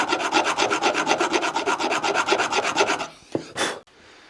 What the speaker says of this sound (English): Right, a bit of a file up.